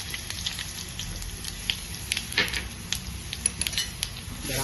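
Ginger, garlic and chili paste sauté in a pan over low heat, giving a soft, continuous sizzle with scattered crackles and pops. It is quiet and steady, with no voices.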